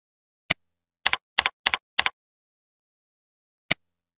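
A search term is typed on a computer keyboard, heard as a single key tap, then a quick run of about eight crisp clicks in small pairs, and one final tap after a pause, close and isolated in silence.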